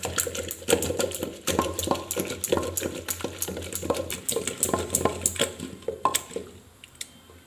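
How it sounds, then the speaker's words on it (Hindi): A wooden dal ghotni mashes and churns cooked dal in a pot, producing rhythmic wet squishing and knocking strokes at a steady pace, close and fairly quiet, fading near the end. "ये हम लोग इसे दल घुटनी बोलते हैं इसको अच्छा से मिला लेंगे ताकि पूरा मिक्स हो जाए"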